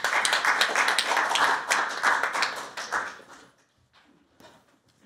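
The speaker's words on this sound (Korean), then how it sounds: "여러분 박찬욱 교수님을 박수로 환영해 주십시오." Applause from attendees of an academic conference welcoming a professor emeritus as moderator, a lively burst of clapping near the listener that thins out and fades to scattered final claps after about three and a half seconds.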